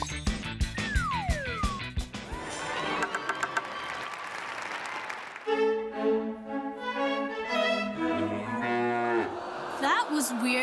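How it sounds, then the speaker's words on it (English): A cartoon cow moos in drawn-out, loud calls amid a busy comic soundtrack with plucked strings and sliding tones, ending with applause-like bursts; no talking over it. "The violin player just turned into a cow."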